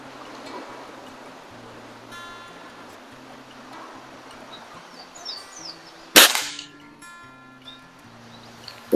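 Beeman C1 carbine air rifle firing a Barracuda match pellet, a single sharp crack cutting through quiet outdoor ambience with birds and a faint stream, followed near the end by a second short snap.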